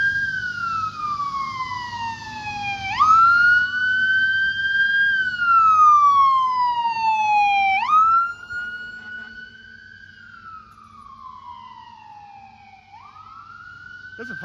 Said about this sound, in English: There's a fire truck coming.